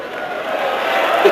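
An 8,000-strong stadium crowd at a 2007 AFF Cup football match between Singapore and Laos reacts unhappily to a foul throw, a broad, steady roar of voices that swells slightly toward the end.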